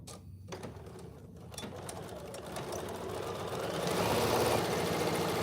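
A sewing machine stitches the seams of an oven mitt, its motor whirring steadily close by and rising in loudness and speed toward the end, with a few light clicks at the start and no speech.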